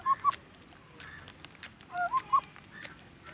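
Domestic chickens being hand-fed make short clucks and squawks in a few bursts, fairly close over a quiet background, with no one talking.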